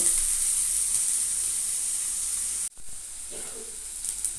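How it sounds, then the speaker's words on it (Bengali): Cut potatoes fry in hot oil with a steady, moderate sizzle, briefly cut by a sharp dropout before the crackling sizzle picks back up, slightly busier toward the end. "ওই তেলের মধ্যে কেটে রাখা আলুটা দিয়ে দিলাম ভাজার জন্য"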